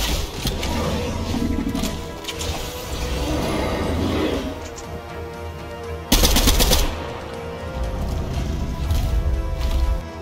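Gunfire in the video game Fortnite during a duos battle royale match, with rapid bursts of automatic shots and one sharp, louder volley partway through, all close and punchy without any talk.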